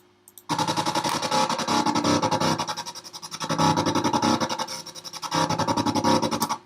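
Aggressive darkpsy hi-tech synth lead built in Serum with effects, a dense, buzzing, rapidly pulsing tone that rises and falls in repeated phrases, loud and continuous with no speech.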